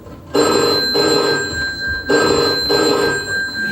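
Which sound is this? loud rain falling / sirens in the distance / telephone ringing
telephone ringing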